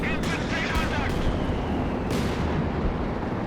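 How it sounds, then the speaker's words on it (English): An artillery barrage in a real-time strategy video game: several heavy impacts at uneven intervals over a constant rumbling battle din, with a voice talking over it. "Major artillery coming in"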